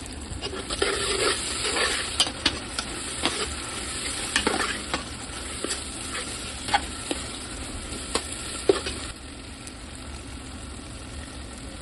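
Spices and turmeric sizzling and being stirred in hot oil for mango pickle, a steady loud frying hiss with repeated scrapes and clinks of a spoon against the pan, no talking.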